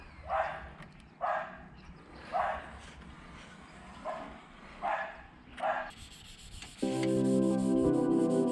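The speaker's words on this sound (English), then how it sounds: "just give it a light sand, give the whole roof a sand," Light hand sanding across the roof panel of a Toyota FJ40, six rhythmic rubbing strokes close by, followed at the end by a steady tonal hum.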